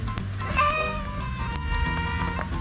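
A domestic cat meows close by in a couple of short, tonal calls, set against a background hum.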